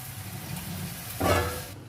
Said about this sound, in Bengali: আমি দিয়ে দেবো গরম জল